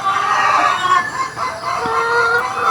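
A flock of chickens clucks and murmurs continuously up close while being given medicine, with overlapping calls and a few sharper squawks over a dense background of bird noise.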